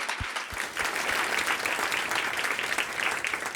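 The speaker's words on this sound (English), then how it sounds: "Give it a round of applause for everyone." Audience applause at a founder event fills the room with steady, dense clapping from a sizable crowd, fairly close and unbroken throughout, a few sharp low thumps near the start.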